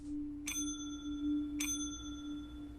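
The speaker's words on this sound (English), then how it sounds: "He rang the bell a couple of times" A rusty service bell on a library counter is struck twice, about a second apart. Each strike gives a bright metallic ding that rings on over a steady low hum, with no one speaking.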